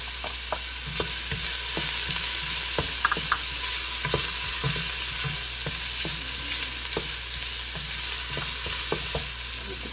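Garlic, onion and ginger sauté in a pan for Filipino goto congee, a loud continuous sizzle with frequent sharp crackles and pops close up, no voices.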